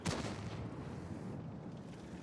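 In a competitive World of Tanks esports match, a tank cannon fires with a sharp boom at the start, then a dense, rumbling wash of battle noise.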